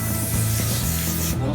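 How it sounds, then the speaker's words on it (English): Spray paint hisses steadily onto picture frames during a guest bedroom makeover, a close, continuous burst that cuts off near the end, with voices talking in the background. "A little spray paint, and it's done."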